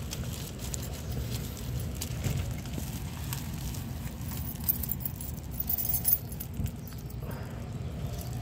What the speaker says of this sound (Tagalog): Bukas muna, kuhanin po na susi.